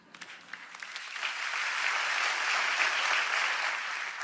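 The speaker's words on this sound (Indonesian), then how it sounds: "Terima kasih buat 7 orang yang tepuk tangan" Scattered applause from a small handful of a church congregation during a sermon, starting as a few separate claps and thickening into a steady, moderate patter without any talk.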